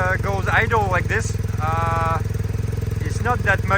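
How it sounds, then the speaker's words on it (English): A 2023 BMW R1250R motorcycle fitted with an SC Project SC1-R full carbon exhaust idles with a steady, deep, pulsing low rumble, close and continuous, while a person talks over it. "when it goes idle like this,"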